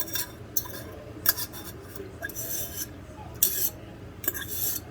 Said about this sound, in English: Now this is a bowl I haven't used in a while.